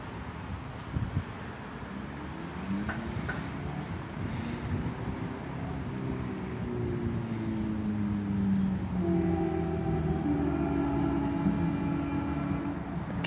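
A four-carriage Class 221 Super Voyager on the Plymouth to Dundee service runs past at Starcross with a faint, steady rumble and a rising diesel engine drone whose tone slides and builds as it passes.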